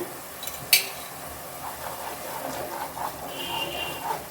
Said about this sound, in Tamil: இப்போ இதையும் நல்லா கலந்து விட்டு இந்த பச்சை வாசனை போகிற அளவுக்கு நல்லா வதக்கிக்கலாம்